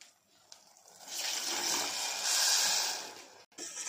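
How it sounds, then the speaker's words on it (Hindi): Half a cup of water is poured into a pot holding a cup of sugar to make sugar syrup for jalebi at home, a rising gush of pouring liquid lasting a couple of seconds, close and clear. "इसी कप से आधा कप पानी डालूंगी"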